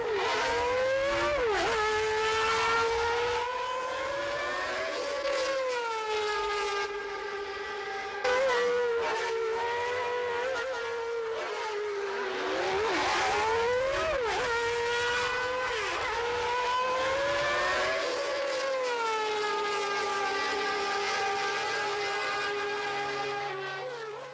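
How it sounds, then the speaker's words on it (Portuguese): Ayrton Senna's McLaren Formula 1 car howls on a racetrack, its high-revving engine whine rising and falling steadily through gear changes, loud and continuous without a break. "O carro de Senna foi para a pista e nós gravamos o som do motor"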